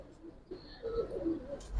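A Giribaz pigeon coos softly at close range in a brief low, throaty phrase, with faint background noise.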